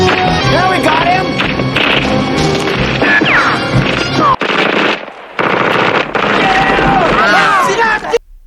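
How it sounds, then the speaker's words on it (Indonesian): In the film First Blood, police fire a cannon shell at a building at an abandoned mine and it collapses. The result is loud, dense crashing and blasts mixed with rapid gunfire, broken by a brief near-silent gap, and voices shout over it. "Salah seorang polisi menembakkan sebuah peluru meriam ke arah bangunan tersebut, yang membuat bangunan tersebut runtuh dan Rambo pun terkubur di dalamnya."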